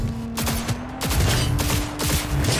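Loud, close gunfire in the video game Cyberpunk 2077, a run of rapid shots in quick succession with brief gaps, booming low thumps under sharp cracks.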